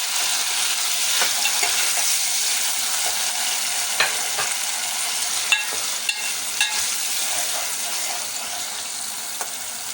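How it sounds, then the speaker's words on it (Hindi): Onions and tomatoes sizzle steadily in a pan for achari baingan, while a spoon stirs and scrapes with scattered clinks and taps. "ये हमने इसमें टमाटर डाल दिए"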